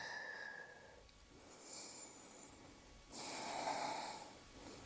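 A yoga instructor breathes audibly during a vinyasa flow, a soft nasal breath followed by a louder, rushing exhale near the end, close up over low room noise.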